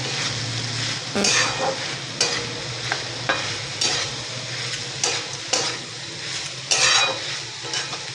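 A vegetable mixed with crushed raw peanuts is stirred in a hot pan: repeated scraping strokes of a spoon against the metal every second or so, over a low continuous sizzle, close and fairly loud.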